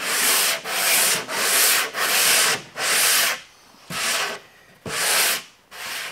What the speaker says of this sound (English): You just barely touch it with the sandpaper.